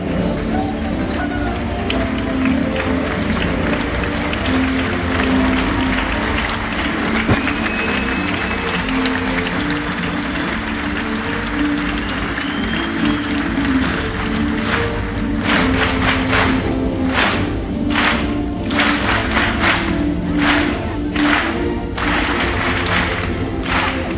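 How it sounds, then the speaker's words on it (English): Sustained theatre audience applause aboard the MSC Divina cruise ship, dense continuous clapping from a large crowd with music playing underneath, swelling into louder bursts toward the end. "one more time for a huge round of applause"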